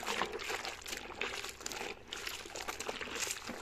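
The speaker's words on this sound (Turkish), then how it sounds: "Şimdi tekrar bir suyu sıkalım" Water sprays and trickles onto a dusty radiator near a tiled wall during cleaning, a soft, hissing, splashing flow that continues unevenly throughout, close but fairly quiet.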